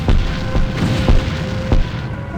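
Several deep booming blasts in a loose rhythm, each a heavy explosive thump over a constant rumbling background, from explosive ammunition fired in the video game X-Com: Apocalypse.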